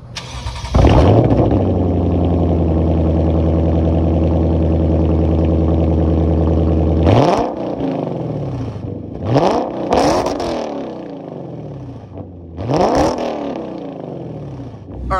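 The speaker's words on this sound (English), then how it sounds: "that was, of course, the sound of this Lexus 5-liter V8 with this Meisterschaft exhaust" A Lexus RC F's 5-liter V8 with a Meisterschaft exhaust cranks and fires up to a steady throbbing idle, then barks through several sharp revs with a deep, raspy exhaust, close by.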